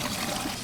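Grey water from a campervan draining into a dump station in New Zealand, a steady, close rush of pouring liquid with no voices.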